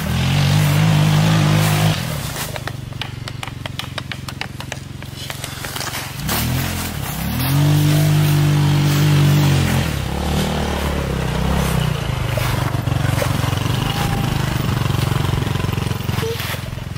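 A vehicle's engine rumbles and revs in bursts, rising and falling in pitch as it pulls away, fairly close, with a broad whooshing roar over a dusty outdoor scene and no clear talk.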